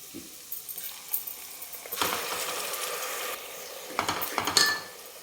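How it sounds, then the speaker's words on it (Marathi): Ground masala paste is tipped into a pan of mutton and stirred, giving a burst of sizzling along with clinks and scrapes of a utensil against the metal, with no talking. "तर यानंतर आता टाकू आपण हे जे वाटण घेतलेलं आहे ते वाटण टाकू आपण"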